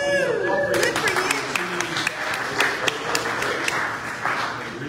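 Scattered audience clapping at a community advisory board coffee-and-conversation meeting starts after a brief voice and continues as a thin, uneven patter of separate claps through the rest of the moment, with talk running underneath.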